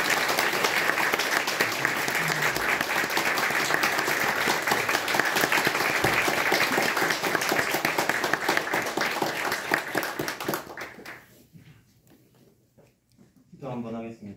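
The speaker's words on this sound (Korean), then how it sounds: "나오실 때 박수해 주시죠." A church congregation applauds during a Sunday service as a preacher comes forward, steady dense clapping filling the room for about ten seconds before it dies away into quiet, with a voice starting up at the very end.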